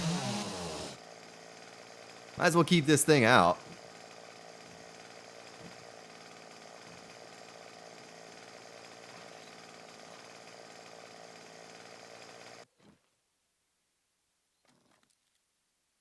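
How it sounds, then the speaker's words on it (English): In the video game 7 Days to Die, a chainsaw runs steadily for about twelve seconds with a louder revving burst near the start, then cuts out to near silence. Someone speaks briefly over it. "Well, chainsaw again."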